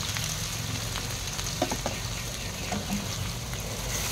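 Panch phoron and garlic frying in hot oil for tempering dal, a close steady sizzle with a few light crackles and pops; no one speaks.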